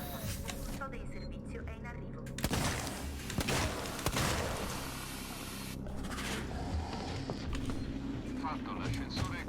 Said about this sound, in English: I'm gonna shoot this android.